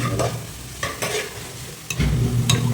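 Fish curry bubbles in a pan while being stirred, with bursts of scraping and stirring noise over a low, steady simmer and a louder bubbling swell near the end, close by.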